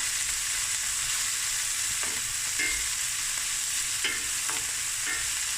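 Prawns frying in a pan for spicy rice, a steady close sizzle running throughout with a few soft scrapes and stirs of a utensil, no voices.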